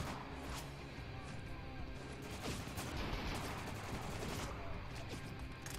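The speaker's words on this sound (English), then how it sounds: "now I just have a full-on automatic rifle" Automatic rifle gunfire in Spec Ops: The Line, a steady rattle of rapid shots and impacts blending into dense, fairly quiet battle noise with faint voices underneath.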